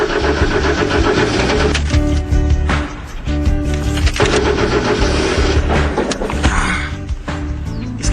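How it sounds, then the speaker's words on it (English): A car engine cranks repeatedly without catching, a loud, close, uneven grinding churn that stops and restarts in several bursts. "His engine refused to turn."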